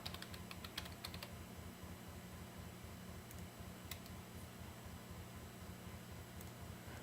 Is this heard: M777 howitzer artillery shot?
no